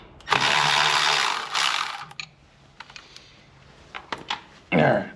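A wrench works a nut on the flywheel of a Ford 8N tractor, giving a loud sustained ratcheting rasp, then scattered metallic clicks and taps, and a final brief ratchet burst close up.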